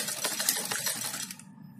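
A sewing machine stitches a net frill for a small Laddu Gopal dress, running in a steady, close, rattling burst before stopping abruptly near the end.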